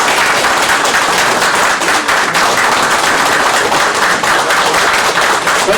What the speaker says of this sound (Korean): 그럼 대신 박수로 크게 하겠습니다.